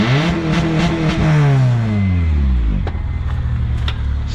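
An engine revs hard with a falling pitch sweep, then settles into a loud close idle with a few sharp clicks over it.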